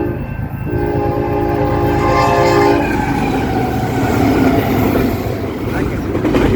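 Union Pacific intermodal freight train led by three locomotives passing a road crossing in Turlock, California, with a loud sustained horn blast over heavy rolling rumble and crossing noise, close by.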